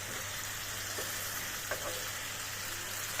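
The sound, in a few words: meat and potatoes frying and being stirred in a pan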